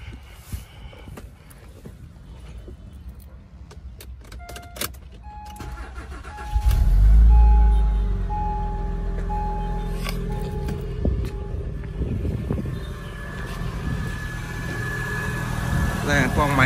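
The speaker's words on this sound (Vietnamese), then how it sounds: "máy nổ rất là êm luôn" The 3.7-litre engine of an older Acura car is started and then idles, a low, smooth rumble under the open hood, with someone talking over it.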